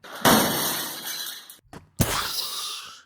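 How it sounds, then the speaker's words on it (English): Glass shatters in a scene from the 2001 film Lara Croft: Tomb Raider, a loud crash followed by a second burst of breaking glass after a short gap. "Can you hear the cracking of that glass? Is that glass cracking?"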